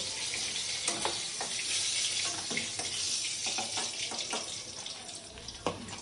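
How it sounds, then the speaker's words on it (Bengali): Fish dropped into hot oil for a Bengali potato and bori fish curry, giving a steady, close hiss of frying with scattered crackles and pops and no talking. "তেল গরম হয়ে গেছে, মাছটা দিয়ে দিলাম"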